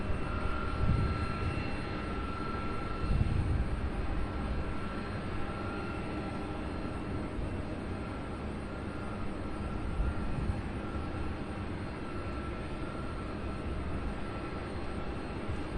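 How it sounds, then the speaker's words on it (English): A C-130 aircraft landing on a runway at Louisville airport, a steady broad distant engine roar that stays constant throughout, with no talk. "Looks like we have a C-130 landing on 35 right."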